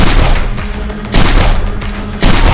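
A Nerf toy blaster on a Battle Racer ride-on fires darts in a loud, rapid burst of pops and thumps, heard close up in two bursts.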